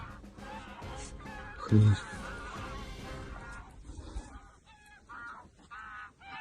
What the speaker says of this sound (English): Реально гуси, слышишь?